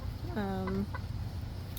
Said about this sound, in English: And I have some more chickens over here.